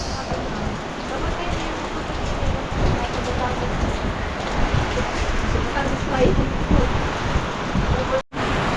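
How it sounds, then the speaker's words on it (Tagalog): Heavy rain pours steadily in gusts at the seaside Bucana area in December, a dense, loud, continuous hiss with strong wind, broken by a brief dropout near the end. "pabugso-bugso yung ulan dito sa Bukana"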